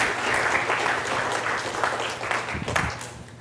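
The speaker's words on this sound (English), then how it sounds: "Give him a round of applause" An audience at an entertainment industry panel applauds a panelist walking on, a steady wash of clapping from a moderate-sized crowd that tapers slightly toward the end.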